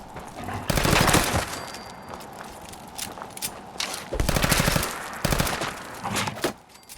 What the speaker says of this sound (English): Once we select the 10mm pistol, we can obviously try out and see what it sounds like.